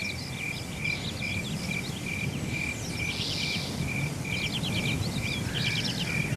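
Crickets chirping as a video game environmental sound effect: a steady, evenly spaced pulse of high chirps runs throughout, with scattered bird calls layered above it in a continuous outdoor ambience.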